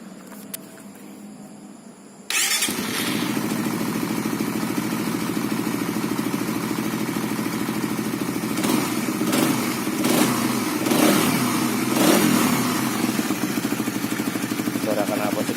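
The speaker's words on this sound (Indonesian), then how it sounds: "Suara knalpot sedikit lebih padat." A Suzuki FU 150 fuel-injected motorcycle engine fires up after a moment of quiet, then runs steadily with a loud, throaty exhaust and a few brief revs.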